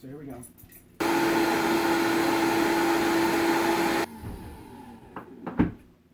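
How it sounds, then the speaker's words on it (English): A loud Vitamix high-speed blender whirs steadily for about three seconds, then cuts off abruptly; a brief spoken line comes before it starts, with clattering after. "I'm going to drop that all into the Vitamix or whatever high-speed blender you happen to have."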